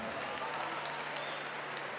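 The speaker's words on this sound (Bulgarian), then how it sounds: "Дами и господа, моля вашите аплодисменти първо и за двамата бойци за тази мъжка среща." A crowd applauds the two fighters after an MMA bout, a steady, fairly faint wash of clapping from the arena audience.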